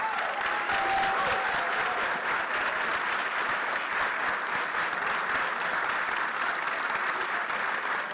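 Audience at a Huston-Tillotson University Charter Day celebration giving the faculty a round of applause: steady, dense clapping from a large crowd, sustained and even at full volume throughout.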